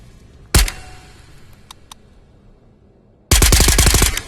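A PP-19 Bizon submachine gun fires in the VR shooter Ghosts of Tabor, first one sharp close shot, then after a pause a rapid burst of about ten loud rounds with a few faint metallic clicks between.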